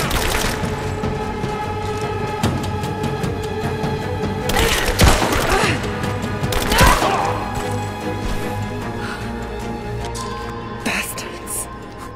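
Gunfire in the video game Rise of the Tomb Raider: scattered shots and impacts ring out over a tense music score, with a few louder crashes standing out among the bursts.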